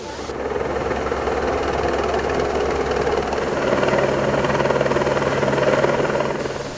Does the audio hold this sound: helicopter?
yes